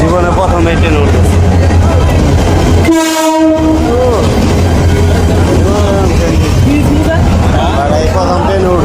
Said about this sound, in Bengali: এই ট্রেন এসে বসছে, এই হলো ট্রেন